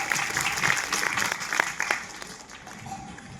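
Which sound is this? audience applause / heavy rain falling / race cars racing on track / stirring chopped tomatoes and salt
audience applause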